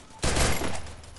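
Gunfire in the Free Fire video game bursts in abruptly as a loud, rapid volley of shots, then tails off briefly over about a second.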